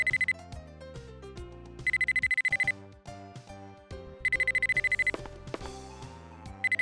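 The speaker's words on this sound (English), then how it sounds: "Matthew gets a phone call." Telephone ringing in the Mizzurna Falls video game, a repeated electronic ring in two bursts over a melodic game music backdrop, clear and moderately loud.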